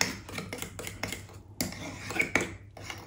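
A utensil scrapes and clinks against a bowl while cake batter is mixed, giving quick irregular strokes with tinny metallic taps, close and moderately quiet.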